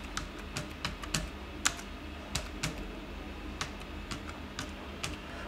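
Typing on a computer keyboard, a quiet, irregular run of close, crisp key clicks at a moderate pace over a faint background hum, no voices.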